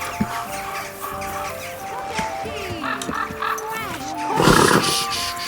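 Horse in the medieval role-playing video game Kingdom Come Deliverance 2, snorting and blowing with hoof and tack noises amid game ambience, closing with a loud breathy snort or whinny.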